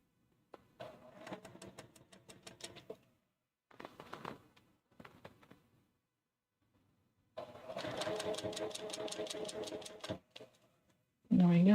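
A sewing machine tacks down folded fabric hexagon patches in several short rapid stitching bursts separated by pauses, ending with a longer steady run, close and clear.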